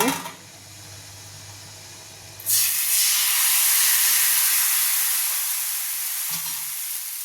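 Rice-flour ghavan batter poured onto a hot pan greased with coconut, giving a sudden loud sizzle that settles into a steady, bright hiss and continues close up without any voices.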